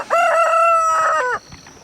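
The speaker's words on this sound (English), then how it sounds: "I'm gonna go into this sea of roosters." Several roosters crowing together on a pasture-raised poultry farm, long harmonic calls overlapping loudly and close for over a second before cutting off to faint background clucks.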